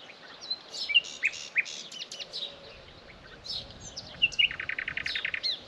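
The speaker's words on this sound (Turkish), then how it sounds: "sizden şu kuşun sesini dinlemenizi istiyorum" Birds sing near a village in bright chirps and quick repeated trills, several calls overlapping against a soft outdoor hush, with a fast trill standing out near the end.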